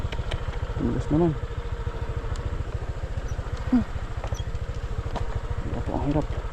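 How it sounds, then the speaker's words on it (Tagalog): A broken-down motorcycle idling: a steady, low, rapid putter close by throughout, with a few brief bursts of voices over it. "Sira yung motor natin."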